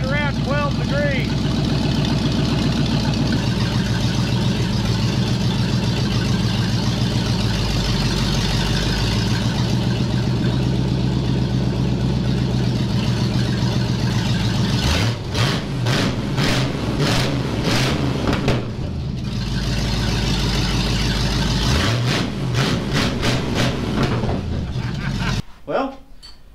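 An old Pontiac car engine idles loud and close with a steady, deep rumble that wavers unevenly, marked by sharper pulsing bursts in the second half before cutting off.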